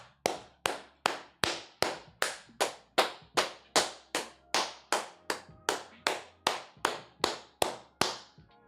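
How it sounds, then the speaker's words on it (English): A man claps his hands about eighteen times in a steady, even rhythm, each sharp clap close and loud and ringing out briefly, with no talking between them. "I'm gonna clap it up, y'all"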